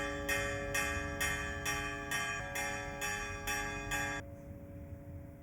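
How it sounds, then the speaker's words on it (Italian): A church bell rings out in a park with a steady rhythm of about nine evenly spaced strokes, loud and resonant, then stops abruptly, leaving a faint hum behind. "Ah, dai, pure la campana."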